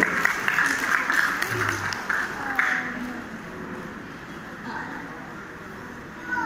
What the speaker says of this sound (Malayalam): എല്ലാവരും കൈയടിക്ക്. എനർജി പോരാടാ, എനർജി പോരാ. എനർജി നന്നായിട്ട് കൈയടിക്കുക.